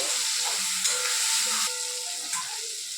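A masala of chopped onion, chopped tomato, ginger paste, garlic paste and chili paste sizzles steadily in a pan, with a continuous close frying hiss broken by a few soft stirring scrapes.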